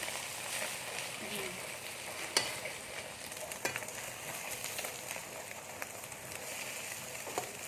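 An egg fries in a pan with a soft, continuous crackling sizzle, dotted with a few sharper pops and spits, heard up close but fairly quietly.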